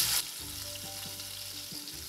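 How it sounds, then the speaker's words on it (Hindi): Chicken sticks for Mediterranean lime chicken sizzle in warm oil, a burst of loud hissing as they go in, then a steady, softer frying crackle with a few stirring knocks, with no talking. "देन हम इसमें ऐड करेंगे अपने स्टिक्स और इसको फ्राई करेंगे।"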